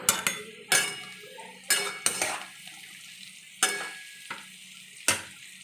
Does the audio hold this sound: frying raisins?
yes